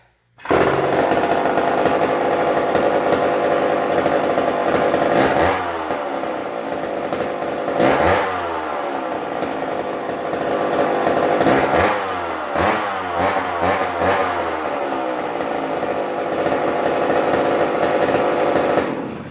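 A Pro Mac 55 chainsaw runs loud and close, revving up and falling back in repeated surges every few seconds over a steady buzzing engine note.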